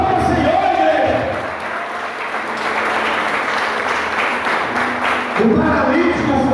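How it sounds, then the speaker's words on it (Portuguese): A church congregation at a Lord's Supper service applauds, steady crowd clapping in a reverberant hall, with voices and murmuring underneath and a speaker audible at the start and end. "Aplauda o Senhor, igreja."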